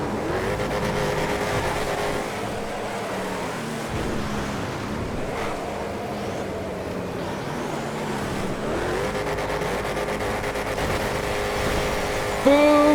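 Race cars in a GTA FiveM game race roar continuously at high speed, with engine tones sweeping up and down through gear changes over a steady wash of road and wind noise.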